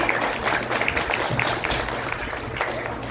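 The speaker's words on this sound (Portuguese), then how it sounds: "Será que nós podemos aplaudi-la nesse momento?" Applause from a church congregation welcoming a new member, steady mid-distance clapping from a gathered crowd filling the whole moment without speech.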